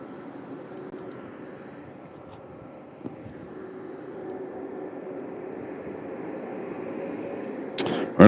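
A FedEx aircraft moves on the ground at Louisville International Airport, giving a steady, moderately distant jet engine rumble that builds slowly, with a brief louder burst near the end.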